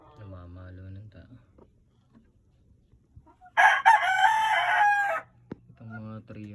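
A fighting-cock broodcock lets out one loud, drawn-out crow close by, framed by someone talking before and after, with a short sharp cluck in between.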